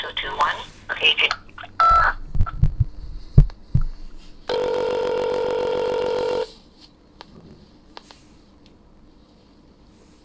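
Telephone touch-tone keypad dialing into an office voicemail system, a steady electronic tone lasting about two seconds after a few short beeps, mixed with a recorded voice.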